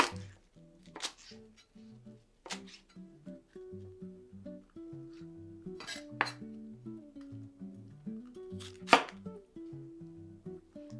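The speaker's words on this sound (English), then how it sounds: "just cut off the ends and just thinly slice. Not thinly, but just a rough chop" A knife rough-chops food on a cutting board for a steak dinner, a string of close, crisp taps in uneven bursts, with no talk.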